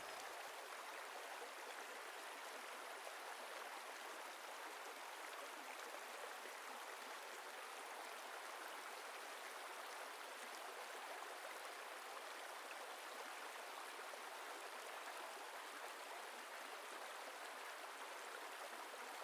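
A river flows through Castle Combe village in the Cotswolds, England, a steady, even rush of water that carries on unbroken with no voices over it.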